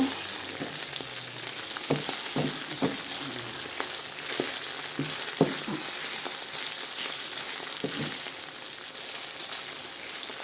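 Chicken gizzards frying in a pan, a soft continuous sizzle broken by scattered sharp pops and light utensil taps.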